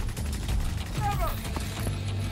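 Gunfire in The Division 2, a steady crackle of shots running through the whole moment, mixed with in-game voices and combat noise.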